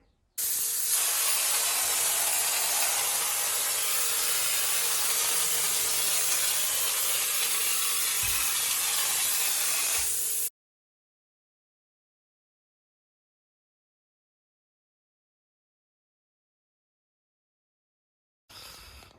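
A spray gun hisses loudly and continuously for about ten seconds, projecting a liquid mixture onto a Boum 415 boat hull under renovation, then stops abruptly into silence before a brief final burst.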